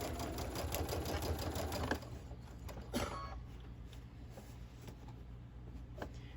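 A sewing machine stitches a long quilt seam through a thick junction of star points, running in a dense, steady burst for about two seconds before dropping to a quieter hum with a few soft clicks.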